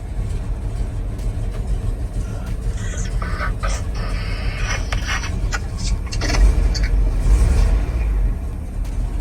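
A 1979 Ford F700 dump truck fitted with a swapped 12-valve Cummins diesel runs steadily at idle, a close, continuous low rumble with some clatter and a brief swell in loudness partway through.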